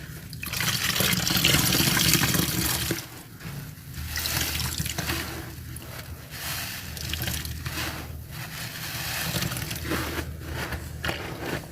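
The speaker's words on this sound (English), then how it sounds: "I'm supposed to be rinsing." Water runs steadily while someone rinses, a continuous close rushing and splashing that dips and changes now and then over nearly twelve seconds.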